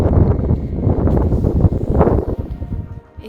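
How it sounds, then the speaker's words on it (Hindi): Strong wind roars and buffets the microphone continuously at night near Dhankar Monastery, a dense low rumble with gusty surges and no voices. "और बहुत तेज़ हवाएं चल रही हैं।"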